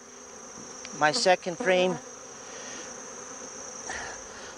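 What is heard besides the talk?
honey bees buzzing in a beehive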